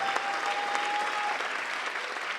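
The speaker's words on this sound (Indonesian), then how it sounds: "Tepuk tangan sekali lagi" A studio audience at a stand-up comedy show gives steady, dense applause that stays loud and even for its full length, with no talking.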